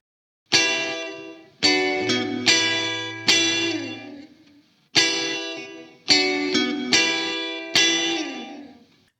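Funky rock riff on a Strat through a Boss RV-2 digital reverb pedal on its gated setting, played alone in two repeated phrases of sharp strummed chords, each cut off abruptly after a short burst of reverb.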